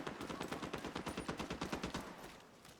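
Rapid automatic gunfire from the shooter game The Division 2, a fast burst of about twenty evenly spaced shots at moderate level that tapers off at the end.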